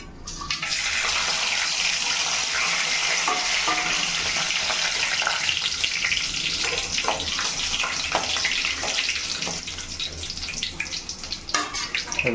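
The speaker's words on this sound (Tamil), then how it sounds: "இப்போ வந்து வாசனை பொருள் சேர்க்குறோம்" Whole spices fry in oil in a pan for beef curry, giving a loud, dense, continuous hiss and crackle close by for the full length, with scattered sharper pops and no voices.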